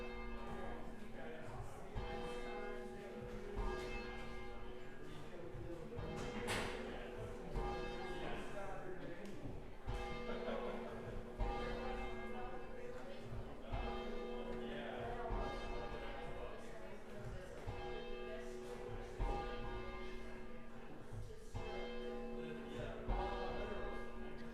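Church bells ring out in the distance in a steady, sustained peal of overlapping tones, with people's voices chattering faintly beneath them throughout.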